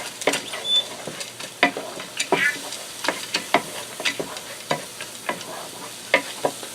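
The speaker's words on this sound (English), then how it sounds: "I'm going to give this a stir to moisten up the stuffing." A spoon stirs cornbread stuffing with chicken seasoning in a Copper Chef XL pan, making a steady series of close scraping, sizzling strokes at a moderate level, with no speech.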